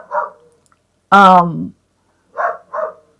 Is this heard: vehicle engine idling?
no